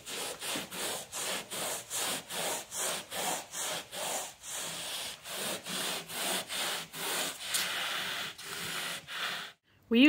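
A sponge spreads bed liner gel across a truck bed in rhythmic back-and-forth strokes, a close, soft scrubbing rasp repeating about twice a second, ending with a brief pause and a sharp knock.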